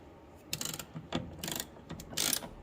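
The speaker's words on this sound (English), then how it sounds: "here's the last bolt that we need to tighten her up" A ratchet wrench cinches the final bolt on a Mazda RX7 door during a speaker install: several short bursts of rapid, dry clicking separated by brief pauses, close and clear, with no talking.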